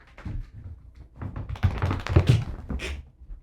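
Something gets knocked aboard the tall ship Bessie Ellen: a cluster of soft, irregular taps and dull thunks, close and moderately loud, with no talking over them.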